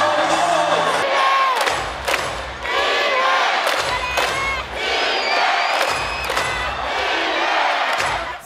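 A packed basketball arena crowd roars and cheers in loud surging waves, with shouts and whoops rising and falling throughout, and a commentator's voice faintly woven in.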